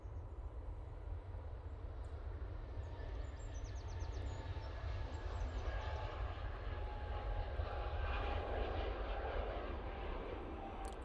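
An easyJet Airbus A320neo jet rolls for takeoff at Manchester Airport, a steady, broad engine roar that builds gently and holds loud throughout, heard from a distance with no talk over it.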